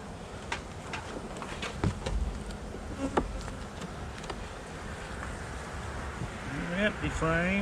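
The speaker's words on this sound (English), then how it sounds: "A small cluster of bees" Honey bees hum and buzz around an opened hive during a late December check, a dense close drone with occasional louder passes near the microphone, joined by some wind and handling noise.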